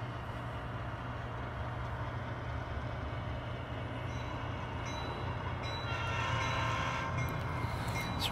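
A freight train shunting cars past a covered hopper makes a continuous low rumble of rolling wagons and engine, steady and fairly close, swelling slightly toward the end.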